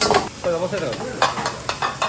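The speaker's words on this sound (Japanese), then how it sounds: "めっちゃ鍋振りがもうスペシャルですね" Wok tossing and stir-frying in a busy ramen shop kitchen, with loud sizzling and repeated metallic scrapes and clanks in a steady rhythm, close by, while a voice speaks briefly over it.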